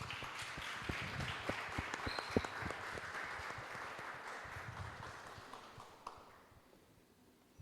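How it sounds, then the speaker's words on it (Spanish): Studio audience at a podcast taping applauds a guest being welcomed, a steady wash of hand claps with scattered sharper claps that thins and fades toward the end. "Le pedimos un fuerte aplauso para José Luis Beglia"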